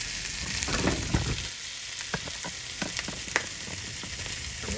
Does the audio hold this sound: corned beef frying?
yes